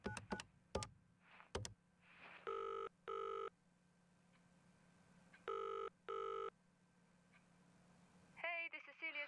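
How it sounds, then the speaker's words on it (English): An outgoing phone call rings back in two crisp double-ring bursts with a quiet pause between them, after a few sharp clicks and taps; a voice starts just as the ringing ends. "she's calling someone"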